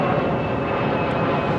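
A Lufthansa airliner passes low overhead at London Heathrow Airport, a steady, loud, broadband engine roar that fills the whole short stretch without pause.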